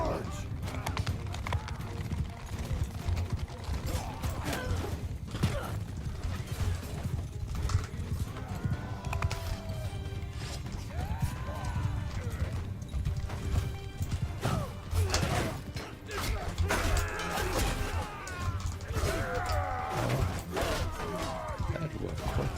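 Horses galloping into battle in the game Bannerlord, with rapid drumming hoofbeats, occasional whinnies and crashing clashes layered over a continuous din of combat, while someone talks throughout.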